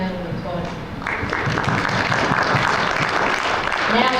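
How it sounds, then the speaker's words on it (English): Applause from a conference audience builds and holds steady, a broad wash of clapping with a voice talking over it. "Let's have another round of applause."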